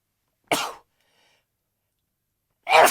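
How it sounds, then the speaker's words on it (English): A person sneezes twice, a short explosive burst followed about two seconds later by a second louder one, close to the microphone with silence in between. "I'm going to sneeze"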